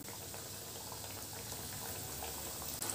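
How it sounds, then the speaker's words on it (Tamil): A homemade evening snack piece dropped into well-heated oil for deep-frying, giving a steady, dense bubbling sizzle at moderate level throughout, with no talk over it. "எண்ணெய் நல்லா காஞ்சிருக்கு. இதில் நம்ம செஞ்சு வச்சுருக்க ஒரு பீஸாக போட்டுடலாம்."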